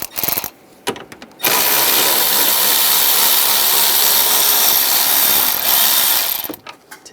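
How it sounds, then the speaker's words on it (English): A power tool fitted with a 13 mm socket runs in one loud, sustained burst of about five seconds, backing bolts out of the side of the radiator cooling fan assembly on a 2011–2018 Ram 1500, with handling knocks before and after. "We're going to take these bolts out on the sides of the coolant fan assembly"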